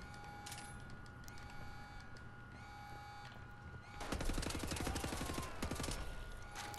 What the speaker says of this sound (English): Oh, it's 3-round burst. Okay. Thank you for giving me that assault rifle.